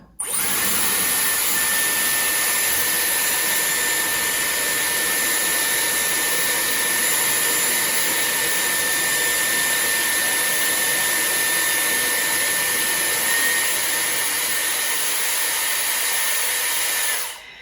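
Dyson Airwrap hair styler blowing a steady, loud stream of air while curling hair, a continuous whooshing drone with a high motor whine that holds unbroken almost to the end.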